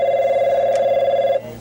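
A telephone rings at a customer support line, giving one steady electronic ring that holds for over a second and then cuts off, clear and close with no voices.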